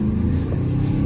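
Dodge Charger R/T engine through a downshift, a brief loud burst of throaty rumbling exhaust with rough low pulsing, heard close without speech.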